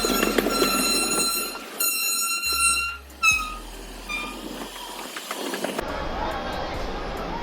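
A train rolls into Kolkata station, with rumbling wheels, high squealing tones and a sustained horn-like hoot, close and loud, ending in a broad noisy wash.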